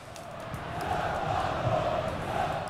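São Paulo supporters in the FIFA 20 video game during a Libertadores match, a steady crowd roar that swells and holds at a loud level throughout.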